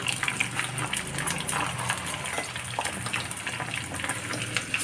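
Brinjals frying in oil for a biryani gravy, a steady crackling sizzle with scattered pops and light clatter running close and continuous throughout.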